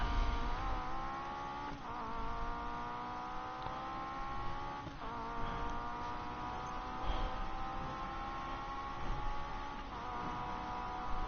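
Off-road car driving in the video game Need For Speed Payback, a steady engine drone with periodic rises and shifts in pitch, moderately quiet and continuous, with no talk.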